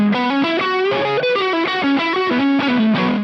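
A Saito S-622 HSS electric guitar plays a quick, steady run of heavily distorted notes with strong attack and sustain, loud and alone with no voices.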